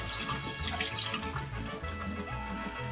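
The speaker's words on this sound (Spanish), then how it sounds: "le voy a echar otro poquito de agua." Water pours steadily into a jar of fermenting tepache made with fruit and piloncillo, a continuous close splashing trickle with no voices.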